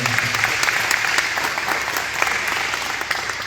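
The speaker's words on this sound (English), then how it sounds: "let's give a round of applause to the Smoke family" Audience at a Deer Park veterans memorial service giving a round of applause for a local family, a steady even patter of many hands clapping at moderate distance with no talk over it.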